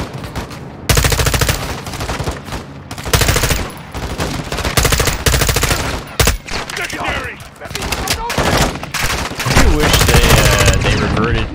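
Rapid automatic gunfire from the Modern Warfare 2 campaign roars in long, loud, dense bursts with short gaps between volleys, close and dominant throughout.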